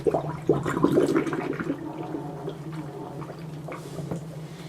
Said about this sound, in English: gently let the water out of the sink